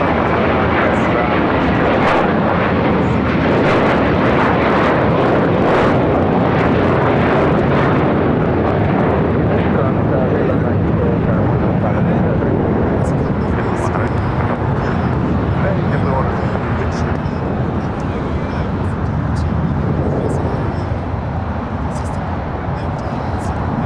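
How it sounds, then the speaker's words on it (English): A JetBlue Airways Airbus A321 jet at LAX, bound for Fort Lauderdale, gives a loud, steady engine roar that fills the whole span, with airport radio chatter and talk over it. "JetBlue Airways Flight 100 heading to Fort Lauderdale, Florida, in A321"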